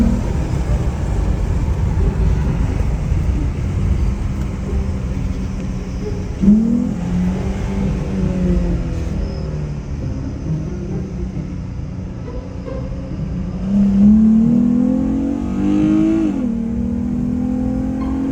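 A Chrysler 300 driving on a road, a steady engine rumble with a couple of rising accelerations and gear-shift dips, heard loud and close from inside the car.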